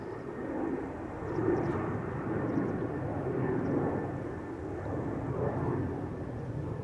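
KLM Embraer jets taking off at Amsterdam Schiphol produce a distant, moderate engine rumble that rolls along steadily through the whole stretch, with no voices over it.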